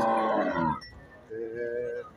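A cow at the Kharian livestock market lows twice in close succession, a deep, drawn-out moo followed after a short pause by a second, softer call, heard nearby over faint background noise.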